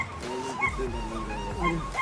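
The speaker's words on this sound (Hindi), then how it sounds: "तो यार 2 कुत्ते ये रहे और तीसरा पीछे वो रहा।" Dogs in a rural Chinese village give short yips and whimpering barks in quick succession, fairly close, with someone talking faintly beneath.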